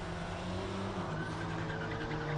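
A Jaguar V8 supercar fitted with a Ford 6-litre engine races uphill at a hillclimb, its engine a loud, steady, unbroken roar sustained throughout.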